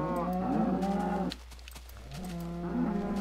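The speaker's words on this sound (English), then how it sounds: "There are a variety of different cows." Two drawn-out Minecraft cow moos with a brief quiet gap between them, clear and close, with a steady low background hum.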